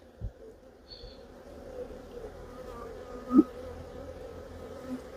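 Honey bees buzz around an open hive during a hive inspection, a low steady drone with one brief louder pass as a bee flies close, otherwise faint and continuous.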